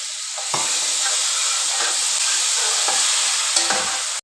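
Masala frying in a pan for chana pulao, a continuous sizzle and hiss with a few scraping stirs of a spoon, close and fairly loud, no talking.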